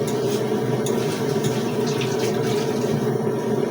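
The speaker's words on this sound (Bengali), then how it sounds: "জল দিয়ে দিবি।" Water poured steadily into a cooking pot holding potatoes and oil, a continuous close splashing fill running throughout without pause, no voices.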